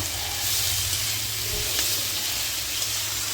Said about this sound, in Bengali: এবং একটু রসুন কুচি। সবগুলোকে একটু ভালো করে ভেজে নিব